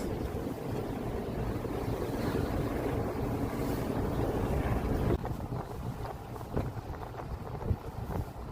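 Strong wind from a heavy nighttime blizzard roars steadily around a car driving slowly on a road in Halifax, a low continuous rumble with soft knocks and buffets toward the end.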